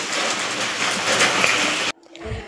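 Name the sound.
heavy rain falling outside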